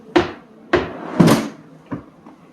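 UPVC interior drawer or cupboard being opened and closed, four separate knocking thuds with short slides, sharp and fairly close, the last one softer.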